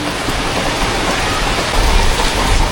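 Heavy rain pours during a typhoon storm, a dense, continuous roar of water that swells louder toward the end, with no voices.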